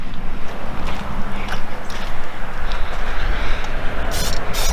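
A car-cleaning chemical is sprayed onto a fourth-generation Z28 during a car wash, making a steady, loud, close hiss that continues for the whole stretch, with a few brighter spurts near the end.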